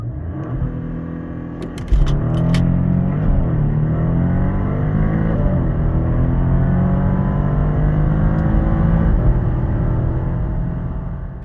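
A Porsche Panamera 4 with a 2.9 V6 engine roars loudly as it launches from 5000 rpm, revving and rising steadily in pitch as it accelerates hard, close and continuous.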